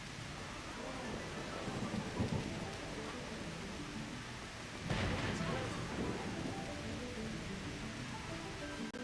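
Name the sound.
rain and thunder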